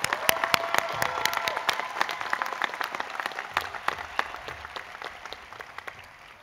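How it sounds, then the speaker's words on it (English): Audience at an outdoor college commencement ceremony applauds military graduates, a burst of many sharp, closely spaced claps that gradually thins and fades toward the end. "Let's give them a round of applause for their service to our country."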